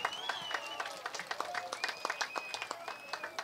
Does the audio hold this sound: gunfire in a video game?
no